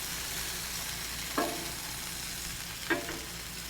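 Butcher's bacon and sausage frying on a Blackstone griddle outdoors make a faint, even sizzle, broken twice by brief scraping clicks of a spatula.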